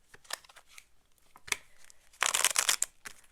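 Tarot cards being shuffled by hand, close and crisp, coming in short riffling bursts with a longer, louder flurry of rapid card slaps near the end.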